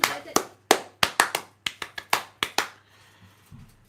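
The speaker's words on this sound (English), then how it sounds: "Do you know, I done that clap." A dozen or so sharp hand claps ring out close by in an uneven, spontaneous rhythm, then stop, leaving a quiet room with a low hum.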